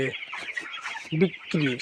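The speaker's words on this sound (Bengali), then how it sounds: "ব্রয়লার মুরগি লাস্ট 10 দিন একটু কেয়ার বেশি করতে হয়" Broiler chickens clucking close by in short bursts, a few sharper clucks standing out over a steady background of hen chatter.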